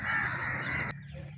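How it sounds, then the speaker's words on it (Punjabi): Crows cawing on the water beside the Ravi river bridge at Qutab Shahana, a loud, close, drawn-out harsh call that cuts off abruptly, followed by fainter background calls. "ਕਾਫੀ ਸਾਰੇ ਕਾਂ ਵੀ ਆਏ ਬੈਠੇ ਨੇ ਵਿੱਚ"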